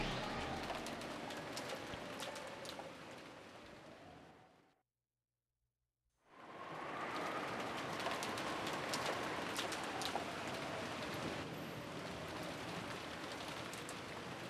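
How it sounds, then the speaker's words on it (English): Steady rain patters on surfaces as a quiet backdrop, broken by a short silent gap before the hiss resumes, with faint bird coos in the background. "it was very quiet, filled only with the sound of the rain"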